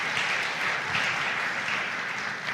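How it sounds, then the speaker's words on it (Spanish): A church congregation applauding during a worship service, a dense, steady clapping from many hands that keeps an even level throughout the short stretch, with no speech on top. "Dale palmas al Señor"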